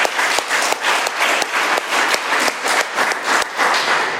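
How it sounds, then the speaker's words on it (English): Audience applause fills a recovery meeting hall after a speaker, steady clapping from many hands sustained throughout at close range, with no talk over it. "Let's give Andrea another round of applause"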